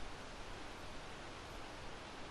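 Continuous broadband whooshing wind, steady and fairly loud with slight swells, heard alone.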